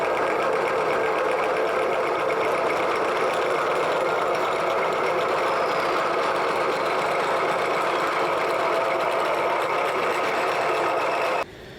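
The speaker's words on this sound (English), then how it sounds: "So I have a 1 3/4 inch hole saw here" A 1 3/4 inch hole saw grinds steadily through tubing, cutting a hole for a cope on a classic BMW project: a loud, continuous drilling whine that holds for about eleven seconds, then stops abruptly.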